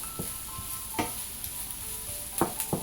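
Shallots and yellow pepper frying in a pan, a utensil stirring with scattered scraping taps over a constant soft sizzle, no talking.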